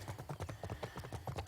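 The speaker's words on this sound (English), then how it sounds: "me back on the horse, just riding around a path through a big canyon" Steady rhythmic clip-clop of horse hooves on a canyon path in the VirZOOM virtual reality game, a continuous close, fairly loud trotting beat with no talk over it.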